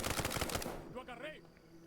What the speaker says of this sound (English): That sounds like a really heavy gun.